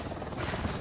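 Helicopter rotor drone from an Xbox One military shooter, a steady close whir filling the short moment with no talk.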